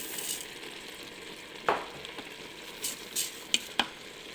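Parboiled rice goes into a hot paella pan, giving a steady background sizzle of frying broken by a few sharp scrapes and clinks of stirring, close and fairly loud.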